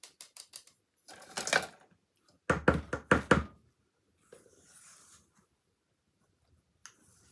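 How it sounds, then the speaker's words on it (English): Plain flour sieved into a bowl for a homemade chocolate tiramisu, heard as quick bursts of tapping and rattling from the sieve, with short clusters of light knocks separated by quiet pauses. "So get your sieve and just simply sieve it in"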